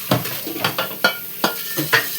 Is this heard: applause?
no